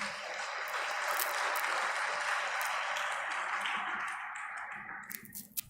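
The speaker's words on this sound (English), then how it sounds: "Let us give the awardees and their parents a big round of applause," An audience at a university graduation rite applauds awardees and their parents, a steady moderate wash of clapping in a large hall that fades near the end with a few isolated sharp claps.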